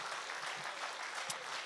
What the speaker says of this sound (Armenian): Տիրոջը ջերմ ծափարենք սիրելիներ